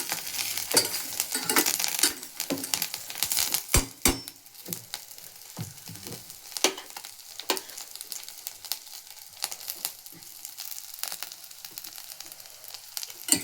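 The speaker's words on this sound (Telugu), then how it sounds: "అందులోనే ఒక పిడికెడు ధనియాలు వేయాలి. వేయించాలి." A handful of coriander seeds roast in a pan for flaxseed chutney powder, sizzling and crackling as they are stirred, with scattered scraping and clicks close by and no voices.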